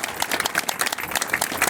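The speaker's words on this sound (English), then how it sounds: "you deserve a round of applause as well" Audience applause at a court dedication ceremony, a steady burst of dense clapping from a crowd lasting under two seconds, fairly close and even throughout.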